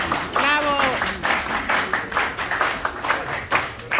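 Audience applause for a speaker at an APRA political event in New York, clapping in an uneven rhythm with a voice calling out over it near the start.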